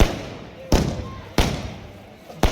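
Fireworks bursting at the grand finale entry of a village cricket tournament, three sharp loud bangs spaced irregularly, each trailing off into a fading rumble, with a crowd murmuring between them.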